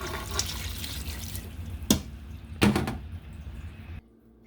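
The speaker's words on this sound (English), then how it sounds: "8 cups of water." Water poured into a soup pot, a continuous close splashing fill that runs for about four seconds, broken by two brief knocks, then stops abruptly into quiet.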